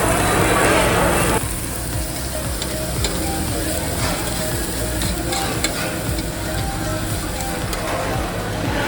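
Brisket sizzles on a tabletop Korean BBQ grill at Master Kim's Korean BBQ in Las Vegas, a steady close crackle after a louder opening burst, with faint restaurant background noise.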